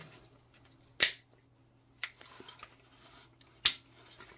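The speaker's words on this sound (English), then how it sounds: "Pop the rear pin in." A rear pin snaps into place on a KWA TK.45c airsoft pistol being fitted with a Wolverine Inferno, giving a sharp close click, then a softer click and faint handling rattle, and another crisp click near the end.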